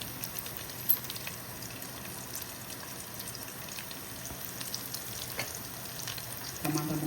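Long-cut onions frying in a pan for mushroom curry, a steady dense sizzle across the whole stretch with a few sharper crackles and a brief stir near the end, with no talking.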